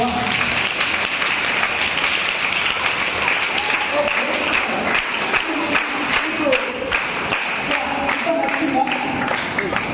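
An audience claps at a magic show, steady dense applause from a crowd filling the whole stretch, with scattered voices and brief speech over it.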